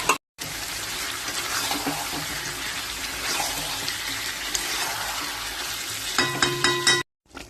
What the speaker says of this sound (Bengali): এবার দেবো চিকেনগুলো। চিকেনগুলো দিয়ে খুব ভালো করে আমি একটু কষিয়ে নেব।